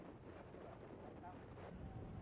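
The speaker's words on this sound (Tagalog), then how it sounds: "malakas ang hangin." Strong wind from Super Typhoon Megi roars as a steady, dense rush that buffets the microphone, a continuous broadband howl with no break and no voices.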